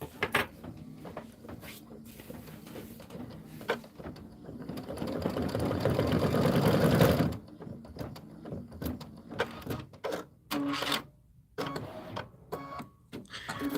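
Embroidery machine stitching tiny eye details in the hoop for a Kimberbell holiday rope bowl, a steady mechanical whir that swells louder mid-clip before giving way to intermittent clicks and handling noises.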